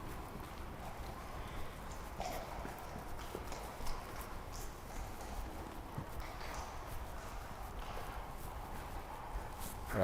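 Horse hooves clip-clop steadily on an arena surface during show jumping training, a continuous, moderately faint rhythm of footfalls with no voices.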